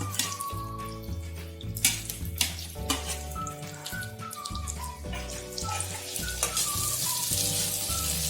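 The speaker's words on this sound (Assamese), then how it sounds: "আৰু পিঁয়াজখিনি ৰঙচুৱা হোৱালৈকে ভাজিম।" Onions sizzle steadily in hot mustard oil in a pan while jackfruit curry is being cooked, a continuous close frying hiss under background music, with no talking.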